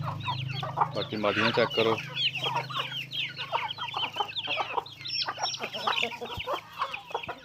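Aseel roosters clucking steadily in a breeder's pen, close and continuous over a low background hum, with a person briefly speaking among them.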